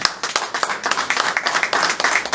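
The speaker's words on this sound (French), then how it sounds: "acclamez très fort" A church congregation at a Full Gospel service in Togo claps and applauds loudly, a dense burst of overlapping hand claps sustained throughout, close and energetic, with faint voices mixed in.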